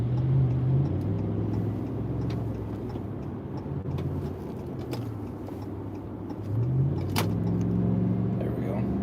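Truck driving in traffic on a highway among semis, a steady low engine and road rumble with gear-shift rises in pitch, while a person talks over it.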